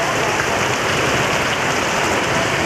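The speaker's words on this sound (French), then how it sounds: "la pluie tombe à grosses gouttes depuis plus de 2 heures." Heavy rain pours down steadily on a school morning, a dense, continuous loud hiss of large drops with no pauses and no voices.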